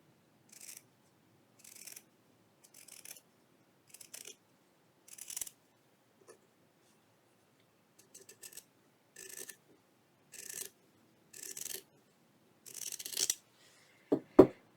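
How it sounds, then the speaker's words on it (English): Scissors cut a piece of paper in a series of about a dozen evenly spaced crisp snips, close and clear against silence, ending with a louder rustle. "I have to cut this one."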